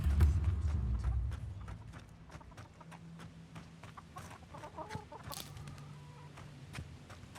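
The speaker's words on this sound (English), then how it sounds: "Can't kill a chicken." A chicken in the video game Avowed clucks in short, scattered bursts over a low ambient rumble, with a few soft footstep-like taps around it and no speech.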